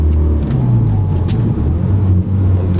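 Car engine pulling in third gear with turbo spooling, a loud, steady, close interior drone with slowly rising low engine tones and no talking.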